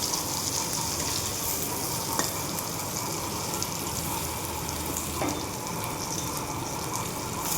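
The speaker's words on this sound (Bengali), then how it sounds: "আর একটু ভাজবো, আর একটু সময় ভেজে তারপর তুলে ফেলবো" Small pona fish fritters frying in hot oil, a dense, even sizzle that carries on steadily at close range, with a couple of faint utensil taps and no talking.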